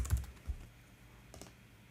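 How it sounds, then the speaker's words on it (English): A few soft keystrokes on a computer keyboard, close and quiet, with two small clusters of taps and a near-silent gap between them. "I will start a new conversation, type Sophie,"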